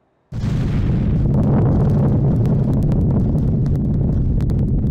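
Bombs exploding below a B-17 Flying Fortress over an industrial park, heard as a sudden loud rumbling blast that becomes a continuous heavy roar with crackling pops, no talk.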